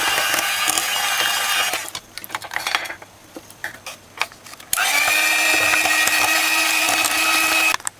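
Electric mixer whirs loudly as it blends batter for a Jamaican Christmas fruit cake, stops for a few seconds of clattering bowl and utensil knocks, then starts again with a steady high motor whine.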